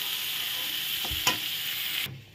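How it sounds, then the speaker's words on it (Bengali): Pointed gourd (potol) frying in hot oil gives a steady, close sizzle with a couple of soft stirring knocks, then cuts off abruptly near the end. "পটল ভালো করে ভাজা হয়ে গেছে"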